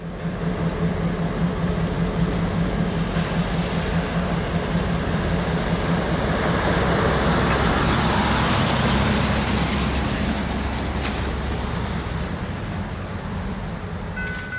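A freight train shoves back onto a string of empty cars at a switch near a wye, a steady loud rumble with low engine drone and wheel noise running throughout, with no talk.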